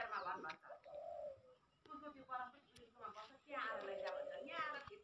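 Pigeons or doves coo repeatedly near their nests by a maize field and a family house, the calls close and fairly soft, coming in several overlapping bursts.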